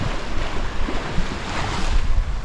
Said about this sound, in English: A lot of flapping sails